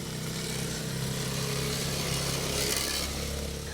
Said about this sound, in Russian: Утреннее спокойствие нарушает звук мотора.